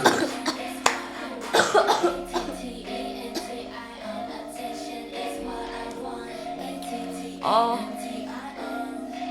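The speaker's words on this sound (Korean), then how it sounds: "뭐 불편한 건 없는데 진짜 기침이 너무 많이 나온다." Someone coughs repeatedly, several harsh bursts clustered early and another later, against a quiet indoor background with some low talking.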